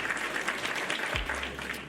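Continuous clapping from a gathered audience at a philosophy talk, a busy crackle of many hands sustained throughout, with a low steady hum running underneath.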